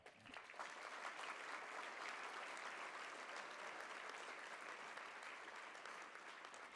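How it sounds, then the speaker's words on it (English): Steady, dense applause from a gala audience at Starry Nights 2016 rolls on evenly for several seconds, distant and fairly faint, with no talking over it. "give her a big applause right now"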